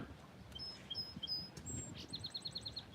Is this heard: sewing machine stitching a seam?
no